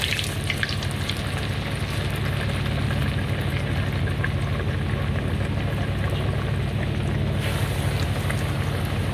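Chicken pieces frying in hot oil in a kadai, a steady loud hiss and crackle of bubbling oil that runs without pause, heard up close with no one talking.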